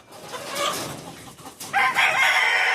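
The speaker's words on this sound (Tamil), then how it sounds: "நம்ம இந்த கோழி பிடிக்க போகிறோம்" Chickens cluck and squawk close by, a busy burst of fowl calls that grows louder and more continuous toward the end, with no talking.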